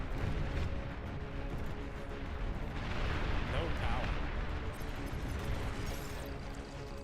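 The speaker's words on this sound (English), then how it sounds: "But bombing run came in." Bombing run explosions in the RTS game Beyond All Reason, heard as a dense, continuous rumble of overlapping booms and blasts. The sound swells in the middle, with someone talking faintly underneath.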